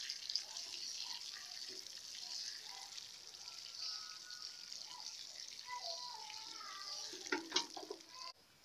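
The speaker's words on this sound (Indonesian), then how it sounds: "Saya akan siram sampai benar-benar basah ya." Water poured from a can over a dollar plant's soil until it is thoroughly soaked, a steady soft splashing trickle throughout, with a few brief bumps near the end.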